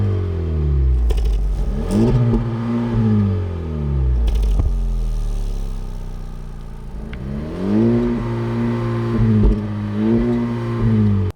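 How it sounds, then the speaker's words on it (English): A 2023 Honda Civic Type R with a 2-liter turbo four-cylinder barks loudly through its exhaust, revving up and down in repeated surging passes with pauses between, close and alone. "It opens to give this the loud bark that you'd expect out of a Type R"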